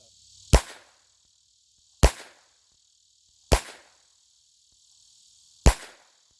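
Four sharp, loud gunshots from a Taurus PT22 .22 pistol fired outdoors, evenly spaced about a second and a half apart with a short gap before the last, each a crisp crack with a quick decay.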